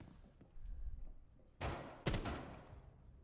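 Gunfire in Rainbow Six Siege aimed at a camera: two short, sharp bursts of shots, fairly close, standing out against quiet game background noise.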